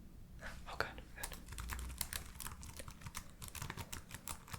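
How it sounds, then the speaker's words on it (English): Rapid, light keyboard tapping close up, irregular bursts of clicking keys with short pauses, fairly quiet. "I was gonna make keyboard sounds"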